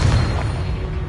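A Confringo fire-blast spell bursts in the video game Hogwarts Legacy with a loud, low, booming explosion that rolls on as a heavy roar and does not fade.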